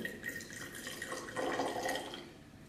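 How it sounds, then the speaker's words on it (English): A 1998 red wine, about 17 years old, is poured gently into a glass, a soft, faint trickle of liquid that runs steadily and swells slightly midway through. "pour very gently."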